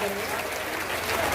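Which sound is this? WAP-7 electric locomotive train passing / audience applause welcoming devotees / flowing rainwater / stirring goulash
audience applause welcoming devotees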